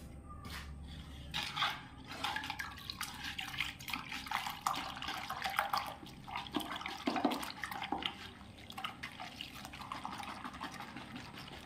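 Water splashes and trickles steadily into a container, a continuous wet pouring sound with small bubbling bursts, close by and fairly quiet.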